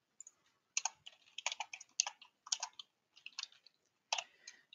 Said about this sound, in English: Let's just type these in.